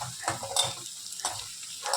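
Garlic and chili fry in a pan while being stirred, a quiet sizzle with a few quick scraping strokes in a short burst, close and without speech.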